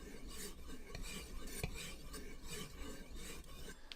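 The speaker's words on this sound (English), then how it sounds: "And that is the traditional way of sharpening a round knife." A leather round knife blade is stropped on a block in a leathercraft workshop, a steady close rasping rub with rhythmic strokes and a brief sharp tap partway through.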